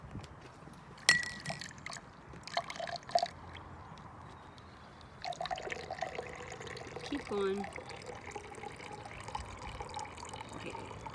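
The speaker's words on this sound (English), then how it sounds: "would you please pour some water into the glass?" Water is poured from a container into a glass during a children's egg experiment, a faint trickling pour in a quiet room with a child and an adult speaking briefly.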